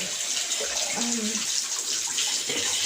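A bath tap runs with a steady gush of water into the tub, bringing brown, discoloured water after a short interruption in supply, close and continuous with no one talking.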